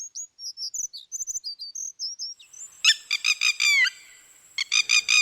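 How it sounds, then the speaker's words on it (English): A redstart, a migratory songbird, sings close and clear with short high whistled phrases, followed by rapid repeated trilling bursts, alone against quiet. "The redstart is a migratory bird."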